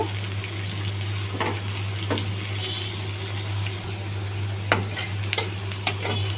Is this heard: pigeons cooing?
no